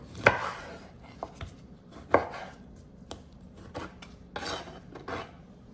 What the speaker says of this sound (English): Now I'm just gonna cut it in 4.